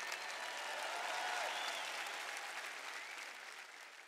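A church congregation applauding in praise of God, a dense steady wash of clapping that fills the room and slowly fades toward the end.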